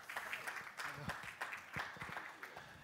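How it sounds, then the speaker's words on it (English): A conference audience at a deep-tech startup stage session gives a quiet round of applause, soft scattered claps blending into a faint patter while a voice talks over it. "A round of applause to Szymon."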